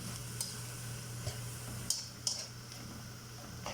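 Chicken cooks in oil for spaghetti, a faint steady sizzle with scattered soft clicks and scrapes as it is stirred in the pan, and no one speaking.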